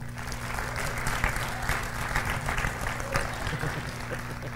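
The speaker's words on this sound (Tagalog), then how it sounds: "pumalakpak nga yung mga kabataan dito" A youth congregation in a church applauds steadily for several seconds, a dense wash of clapping from a moderately distant crowd with a low steady hum underneath.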